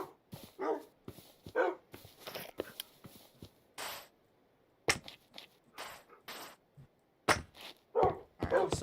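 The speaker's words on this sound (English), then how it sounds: "I'm going to move all my doggos" Dogs in a Minecraft game let out a rapid scatter of short barks and yips, some overlapping and irregularly spaced, with brief quiet gaps between bursts.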